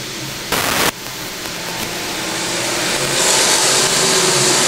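Street stock race cars circling a dirt oval in a feature main, a loud broad engine roar with a brief burst of noise early on, the roar swelling and growing brighter as cars pass close by.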